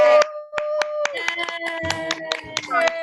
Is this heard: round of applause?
yes